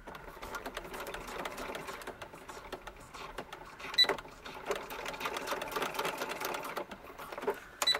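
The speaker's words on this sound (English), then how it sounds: "So we're just going to take and sew across here." A sewing machine stitching across a green coat: a steady, fast mechanical whirr with rapid rhythmic needle clatter running throughout, close but fairly quiet, with a couple of brief louder clunks.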